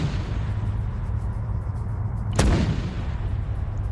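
A single mortar round fires with a sharp, distant-sounding boom during a military operation in a video game, standing out over a steady low rumble of background noise.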